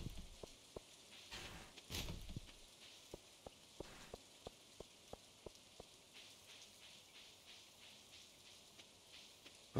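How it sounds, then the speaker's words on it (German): Raindrops on the metal roof of a caravan, heard in a Stardew Valley game as a steady patter of sharp, evenly spaced ticks over a soft hiss, with a louder, denser burst early on. "Die Regentropfen sind auf dem Metalldach unseres Wohnwagens wirklich laut."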